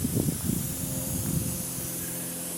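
Garden sprinkler misters at the front of a yard spray water in a steady, soft hiss, with a few faint low thumps near the start.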